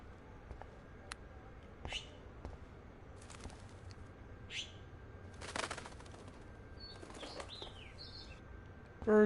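Wing flapping of a bird trapped inside a garage in the video game Life is Strange, heard as several brief soft fluttering bursts over a quiet hum, with faint chirps and a louder burst at the end.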